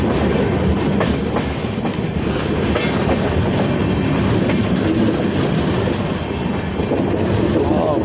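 The Chennai Howrah Mail pulls out of Gudur station with a loud, continuous rumble and rhythmic clickety-clack of wheels over rail joints, steady from start to finish.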